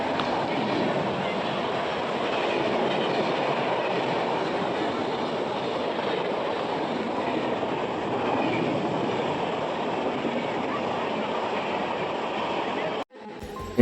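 Local train noise at a station on the route to Khirai, a steady rolling rumble with faint clatter filling the whole stretch, with some speech mixed in, ending with an abrupt cutoff.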